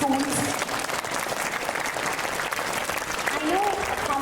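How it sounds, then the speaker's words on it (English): An audience at an inter-school quiz competition applauds the visiting participants, a steady dense clapping throughout with a voice speaking briefly at the start and again near the end. "a big round of applause for all the participants who have come up from various schools"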